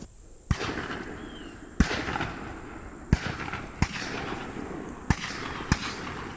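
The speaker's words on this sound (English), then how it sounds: "Somebody shoots and then we get sprayed." Distant shotgun shots at an outdoor dove hunt, six sharp reports at irregular intervals over a steady field hiss and light rustling.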